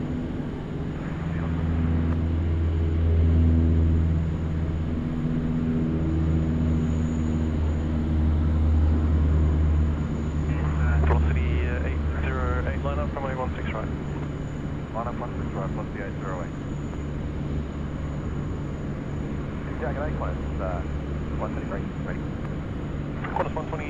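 Airliners at Sydney Airport, including a Qantas A380, Boeing 787 and A330, with a steady low engine drone that rises and holds. Radio chatter and a talking voice come and go over it.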